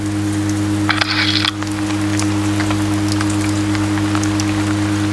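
Steady light rain in the video game Oxenfree patters across a surface, a soft continuous hiss with a low constant hum underneath and a brief brighter splash near the start.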